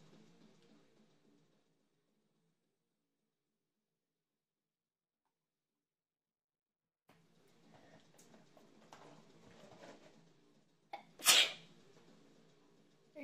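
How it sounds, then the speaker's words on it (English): A single sharp, loud sneeze bursts out near the end after a quiet stretch and some soft rustling, close to the microphone. "Are you covering your sneezes?"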